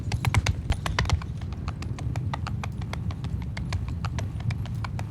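Cavalry horses in the medieval battle game Mount & Blade II Bannerlord, a steady close clatter of many hooves clip-clopping in a fast, continuous rhythm with a low rumbling background.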